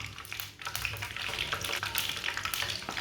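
Kebabs sizzling in well-heated oil in a home kitchen pan, a steady close hiss and crackle of frying with small stirring and spattering bursts throughout, no voices.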